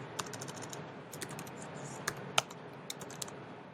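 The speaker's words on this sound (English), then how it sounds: "you just start typing what you're going to do." Fingers tap on a computer keyboard while writing a document in Google Docs, a quiet run of uneven clicks with a few sharper keystrokes standing out and no talking.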